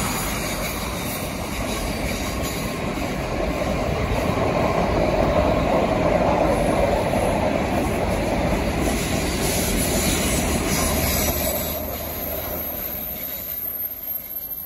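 The Ghan, a 774-metre-long train in Australia, rumbles past steadily with dense rail clatter and faint wheel squeal, holding for many seconds before easing off.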